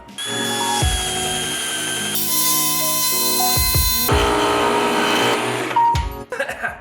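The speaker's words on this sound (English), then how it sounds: "drill a little pilot hole towards the edge" A power drill boring a small pilot hole whirs steadily, its pitch shifting as it bites in and pauses briefly, loud and close, ending with a few clicks and rattles.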